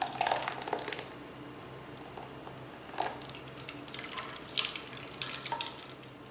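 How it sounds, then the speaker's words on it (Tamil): Blended beetroot juice is strained through a kitchen strainer, giving soft, close liquid trickling and wet splashes with occasional clinks and scrapes, fairly quiet throughout. "இப்போ வடிகட்டி யூஸ் பண்ணி வடிகட்டிக்கலாம் ஜூஸை நல்லா."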